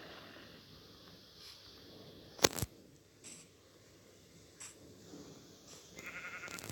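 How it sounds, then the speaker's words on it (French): A sheep in a video game gives one short, faint bleat midway, heard over quiet background game noise with a few soft clicks and rustles. "Je vais te killer, mouton."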